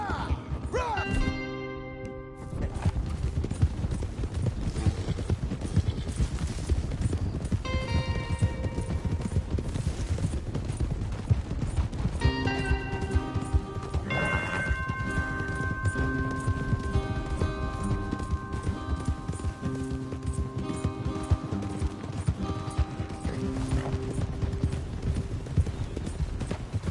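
Rapid, continuous hoofbeats of horses galloping in the video game Red Dead, close and loud, with game music tones and occasional distant voices layered over the drumming.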